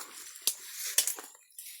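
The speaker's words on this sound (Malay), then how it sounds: "Oh, ada air mengalir lah." Water trickles and splashes in a stream near a village orchard along the Pahang River, a close, bright, uneven burble with small splashy bursts and no talking.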